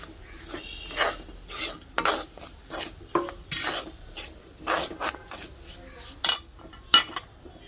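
Roasted coriander, chilli and turmeric powders being scraped from a hot pan onto a plate with a spoon, a series of irregular rasping metal scrapes and clinks, close and loud.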